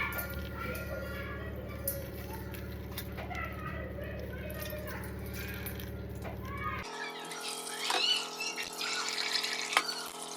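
Water drained from a cooking pot in a home kitchen, a steady close pour and splash that runs the whole time and grows brighter and busier near the end, with a soft background hum.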